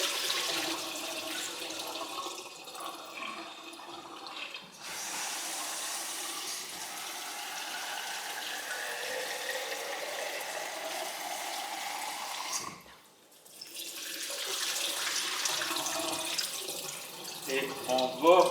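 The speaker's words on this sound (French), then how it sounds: "On va rincer, si possible, avec de l'eau filtrée. Si vous n'avez pas de filtre, mais prenez l'eau du robinet" Tap water runs continuously into a jar of seeds as they are rinsed. There is a brief dip in the flow partway through, and the water is steady and moderately close.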